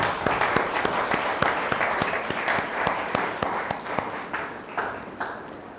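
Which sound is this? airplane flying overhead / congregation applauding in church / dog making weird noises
congregation applauding in church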